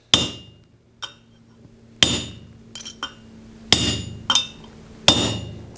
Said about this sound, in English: Pretty much just letting the hammer fall.